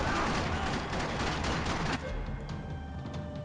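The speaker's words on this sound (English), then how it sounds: "Another parking lot rattling with gunfire." Rapid gunfire rattles through a parking lot in Max Payne 3, dense overlapping shots and bursts packed together, loud at first and then thinning slightly into scattered cracks.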